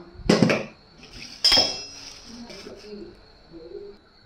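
Onion and tomato crushed for an Assamese fish curry, two sharp clanking strikes of metal against a bowl or grinding stone, then softer scraping and tapping that trail off.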